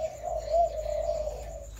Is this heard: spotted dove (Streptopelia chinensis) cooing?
yes